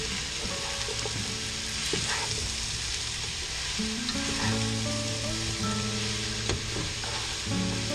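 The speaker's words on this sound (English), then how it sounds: "this is gonna have to cook for quite a while to brown all these up" Wild shaggy mane mushrooms sizzle and fry steadily in a pot over medium heat, a continuous close crackle broken by occasional stirring scrapes.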